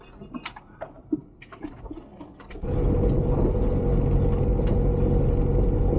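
A car drives over a potholed road in south-west Scotland. Scattered thumps and knocks come first, then a loud, steady rumble of tyres and engine fills the cabin.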